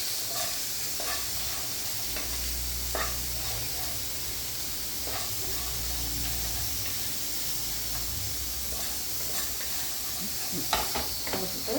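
Okara and vegetables stirred in a nonstick pan for poriyal, a steady sizzle with soft scraping strokes throughout and a few sharper utensil clinks near the end.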